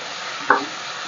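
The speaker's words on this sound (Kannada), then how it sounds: "ಟೊಮೊಟೊ ಹಾಕಿದ್ರೆ ಟೇಸ್ಟ್ ಚೆನ್ನಾಗಿರುತ್ತೆ ಅಂದ್ಬಿಟ್ಟು ನಾನು ಟೊಮೊಟೊ ಹಾಕ್ತಾಯಿದ್ದೀನಿ." Tomatoes frying in oil in a pressure cooker while being stirred for vangibath, a soft steady sizzle with one brief louder scrape of stirring midway, close and alone.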